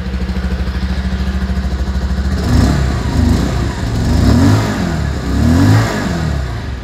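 A Bajaj Pulsar motorcycle engine idles with a steady, bassy thumping exhaust, then revs up several times in rising bursts, loud and close.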